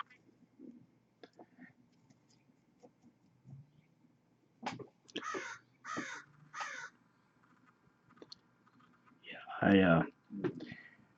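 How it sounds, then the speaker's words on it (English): A crow caws several times in a row, loud and fairly close, with softer rustling and small noises around it. "That noise you heard was an actual crow."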